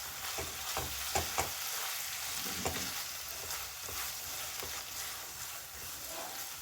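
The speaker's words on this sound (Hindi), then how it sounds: "चलाते हुए इसी तरह से हमें मिक्स कर लेना है।" Masala noodles with soy sauce and red chili sauce are stirred in a pan over heat, giving a soft steady sizzle with occasional scrapes and clinks of a spoon; fairly quiet, with no talk.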